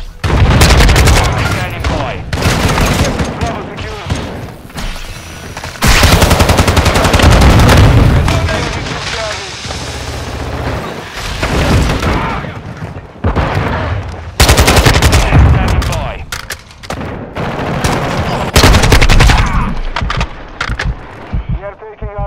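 Video game gunfire fills the clip: loud, dense bursts of automatic fire and booming shots in long volleys, with brief lulls, while voices talk over the action.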